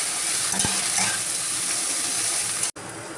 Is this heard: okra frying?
yes